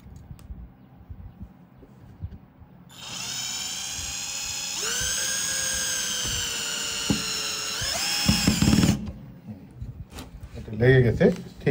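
A WADFOW WCDS540 cordless impact drill drives a screw into a board with a high whine that steps up in pitch for about six seconds and then stops, with someone speaking before and after.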